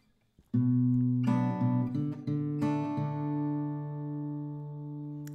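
Acoustic guitar playing a bass-and-chord answer pattern at normal tempo, a few plucked bass notes followed by strummed chords that ring and slowly fade, close up and alone.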